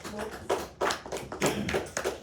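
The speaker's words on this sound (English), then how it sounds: "Round of applause." An audience claps after a debate speech, a short burst of close hand claps arriving in uneven surges with no talking over it.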